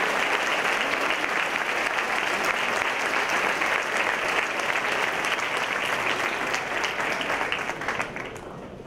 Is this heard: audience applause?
yes